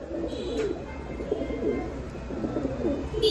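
Red and yellow Lahori pigeons coo softly and close by, low rolling coos repeating every second or so over a quiet room tone.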